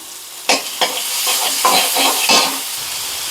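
Onions and curry leaves sauté in a hot pan for a black chickpea curry, giving a steady loud sizzle. Several sharp scraping stirs cut through the frying hiss, and no one speaks.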